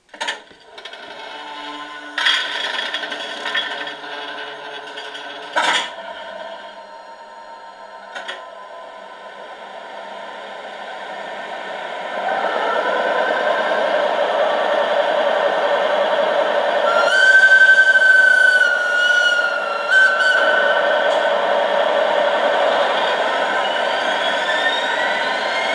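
Two model train locomotives run together under digital control, giving a steady motor hum and rolling noise that grows louder midway, with scattered clicks and a brief whistle-like tone.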